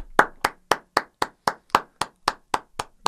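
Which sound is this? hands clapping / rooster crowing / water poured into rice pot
hands clapping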